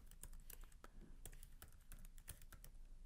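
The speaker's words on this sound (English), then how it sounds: "by typing Java Hello World" Keystrokes on a computer keyboard as a Java run command is entered, a quick uneven burst of sharp clicks and taps at close range with no voices.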